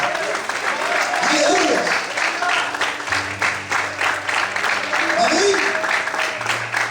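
A church congregation applauds steadily at a worship service, with a preacher's voice calling out over the clapping throughout.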